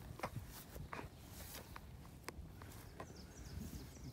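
Footsteps walking through grass come as soft, irregular crunches and rustles close by, quiet against a faint outdoor background.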